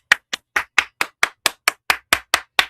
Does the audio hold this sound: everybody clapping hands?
yes